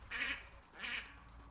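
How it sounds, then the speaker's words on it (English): A duck quacks twice in a steady rhythm near a body of water in a Scottish forest, with faint outdoor ambience underneath. "A duck."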